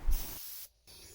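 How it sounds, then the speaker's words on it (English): Spray paint hisses from an aerosol can onto the hatch of a DR-107 One Design RC plane, a loud close burst of roughly half a second that fades, pauses briefly and starts again. "I just want the main body of the spray to be concentrated on the hatch"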